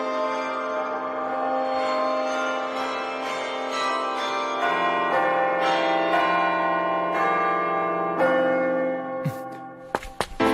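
A mechanical marionette clock chimes a steady melody of bell-like tones, fairly loud and continuous, with a few sharp clicks near the end.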